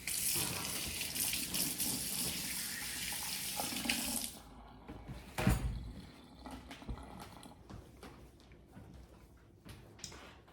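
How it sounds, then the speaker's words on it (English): Kitchen sink tap running steadily as hands are washed after handling raw chicken, a close, bright rush of water that cuts off partway, leaving a few soft clatters and drips. "Have to wash my hands, touching chicken."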